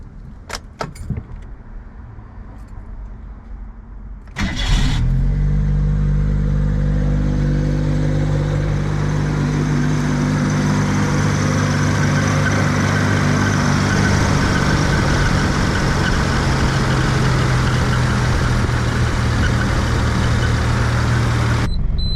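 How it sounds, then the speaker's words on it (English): A Mitsubishi Bravo kei van, just fitted with a new fuel filter, cranks briefly and catches after some keys jangle, then settles into a loud, steady idle that runs on alone for the rest of the stretch. "Now let's start this car for the first time in a couple of days."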